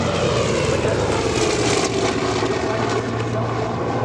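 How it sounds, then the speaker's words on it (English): Warbird fighter aircraft engines droning steadily at AirVenture, a loud, continuous propeller roar with a deep harmonic hum holding throughout, no voices. "Fighters clear to land runway 36."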